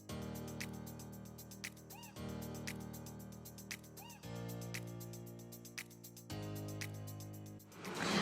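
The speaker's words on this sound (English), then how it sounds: "now we make a cat appearance. Mimi just jumped in." Pet cat Mimi meows in a few short cries over steady background music, the calls rising briefly and repeating at intervals; no one speaks during it.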